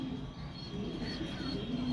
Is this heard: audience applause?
no